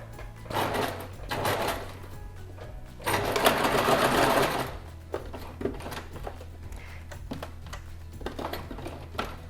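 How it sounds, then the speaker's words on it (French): Sewing machine stitching a mesh wipes bag near an opening edge, with two loud bursts of rapid stitching separated by a pause and quieter, shorter runs of stitching afterward. "à 1 cm du bord, on va faire un petit point d'arrêt, on va coudre sur 1 cm"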